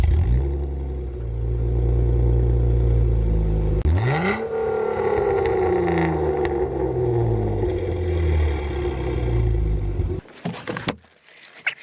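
A 2012 Jeep Wrangler Unlimited engine idles through an aftermarket exhaust, then revs sharply once and winds back down in a loud, close roar. Clicks and rustling follow as it settles.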